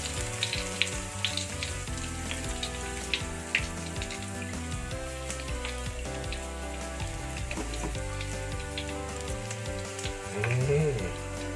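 A whole squid deep-frying Korean style in hot oil, giving a steady crackling sizzle with scattered pops throughout and a brief swell of bubbling near the end, with no talking.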